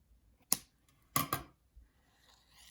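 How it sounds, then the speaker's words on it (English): Scissors snipping off the thread tails of a stab-bound sketchbook: three sharp, close clicks, one followed shortly by a quick pair, against near silence. "I'm just going to go in and cut off the tails"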